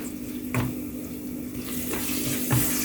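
Ground cumin and ginger paste sizzling with onions browned in a pan for aloo dum, a soft steady fry with occasional scrapes and clinks of a spoon against the pan.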